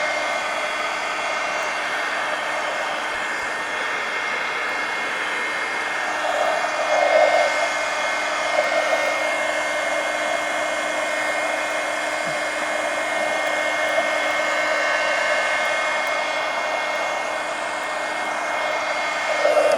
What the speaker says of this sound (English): these original Marvy Uchida heat guns